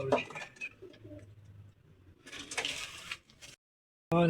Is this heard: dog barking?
no